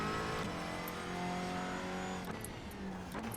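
A McLaren 570S GT4 race car in iRacing at the Hockenheimring screams steadily at high revs, with brief shifts and a second car's engine nearby, no talking.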